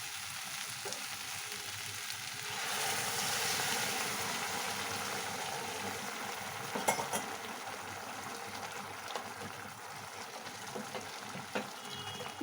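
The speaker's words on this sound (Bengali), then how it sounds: "এবার আমি এর মধ্যে এই গরম জলটাকে দিয়ে দেবো।" Hot water poured into a frying prawn curry brings a sudden louder burst of sizzling, which then settles into a steady bubbling hiss with a few faint clinks, close and continuous.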